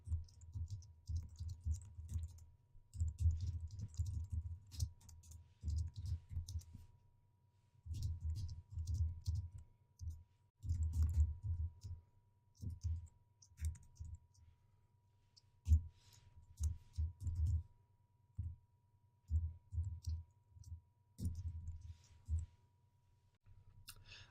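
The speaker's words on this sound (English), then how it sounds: "I'm going to stop talking and start typing." Code being typed on a computer keyboard: quiet clusters of rapid key clicks in bursts separated by short pauses, close and dry, with no talking.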